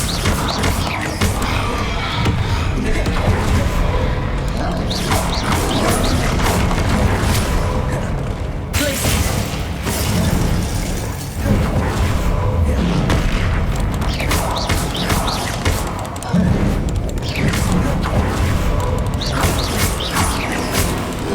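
Confringo blasting-curse explosions in the Hogwarts Legacy video game, booming and crashing again and again through a long, dense, loud stretch of combat noise with little pause between blasts.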